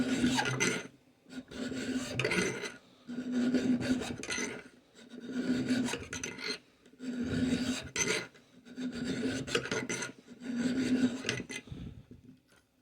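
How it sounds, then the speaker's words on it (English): A hand file rasps metal on the height adjustment thread of a Hitachi table saw, in repeated steady back-and-forth strokes, about six even passes with short pauses between, close and alone. "So I'll slowly take some material away."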